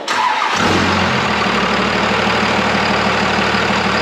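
A truck engine cranks and catches, then settles into a deep, steady rumbling idle close by.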